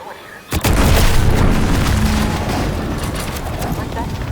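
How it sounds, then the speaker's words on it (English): An explosion in the video game The Outer Worlds 2: a sudden loud boom breaks the quiet, followed by a sustained roaring rumble and debris noise that stays loud to the end. "What's that? An explosion?"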